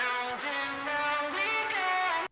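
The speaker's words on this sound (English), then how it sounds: "The vocals actually start very like distorted." Heavily distorted, processed vocal in a music track, a sustained buzzy harmonic-rich sung line with a couple of pitch shifts, loud and continuous for a couple of seconds with no speech.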